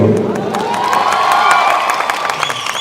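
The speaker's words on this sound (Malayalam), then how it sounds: "ഒരു പ്രാവശ്യം കൂടെ ആ കയ്യടി തരുമോ" A film promotion audience breaks into loud, sustained applause mixed with cheering and whoops, a dense crowd roar that stays strong for the whole stretch with some voices calling out.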